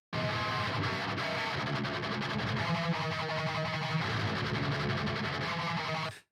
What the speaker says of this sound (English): And it's going to cut those lower frequencies out of the guitar.